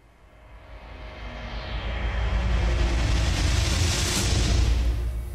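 A cinematic hit and riser built in Cubase: a low rumbling swell climbs steadily in loudness and brightness, a hissing upward sweep peaking near the end, then begins to fall away.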